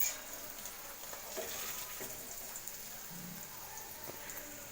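Mutton frying in a pan for mutton fried rice gives a soft, steady sizzle with a faint crackle, a few light stirring scrapes and pops, heard close but quiet.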